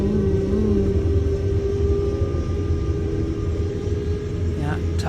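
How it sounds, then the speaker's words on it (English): A steady low mechanical hum and rumble of a tower crane's slewing motor runs throughout, fairly loud, with faint voices underneath, at a construction site pouring concrete columns. "The slew motor you hear."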